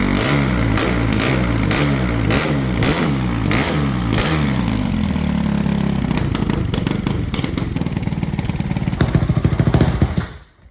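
A Honda CRF 450 engine fitted in a tiny ATV runs loud and close, a steady throbbing idle that gives way to quicker revving blips before cutting off at the end.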